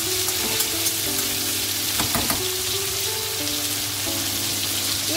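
Tomatoes cooking in spiced oil for a drumstick-leaves dish, a loud, dense frying crackle with a cluster of sharp spatula scrapes midway and a steady low hum beneath, no voices.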